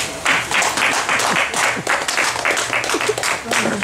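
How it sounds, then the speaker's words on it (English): Audience applause after a spoken word poetry performance at a Chill and Relax event, loud sustained clapping from a crowd with a voice talking over it. "Ladies and gentlemen, another round of applause for Tofarati."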